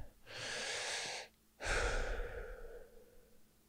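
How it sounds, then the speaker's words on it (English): One slow, deep breath close to the microphone, a steady inhale of about a second, a short pause, then a longer exhale fading away, quiet and with no talk. "I will take a deep breath."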